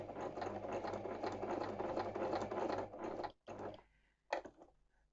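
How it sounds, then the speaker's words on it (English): A Janome sewing machine set to straight stitch at length 2 runs around a fabric edge with a close, rapid mechanical whir, then stops and gives a few short stitch bursts. "I'm going to machine around the edge."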